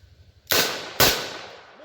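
Two sharp, loud shots from a Smith & Wesson Model 66 Combat Magnum six-shot revolver firing .357 Magnum rounds, about half a second apart, each with a short decaying echo.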